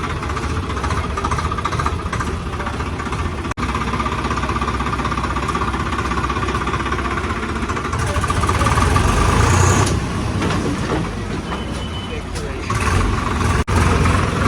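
A Swaraj 969 four-wheel-drive tractor engine rumbles steadily and loudly throughout, swelling a little louder near the end, with faint voices mixed in under the noise.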